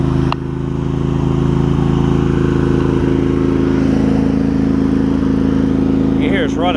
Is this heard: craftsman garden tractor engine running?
yes